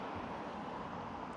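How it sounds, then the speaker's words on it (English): Steady street traffic noise fills the back streets of Blackpool North Shore, a continuous broadband roar of passing cars at moderate level with no clear gaps, lasting about a second and a half. "Sorry about the traffic noise."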